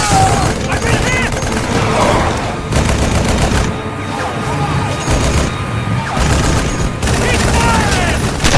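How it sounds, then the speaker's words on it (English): Gunfire in a Halo sci-fi fan film battle scene, dense sustained automatic fire and blasts, loud and close, with shouting voices and sci-fi weapon zaps mixed in. "Keep firing!"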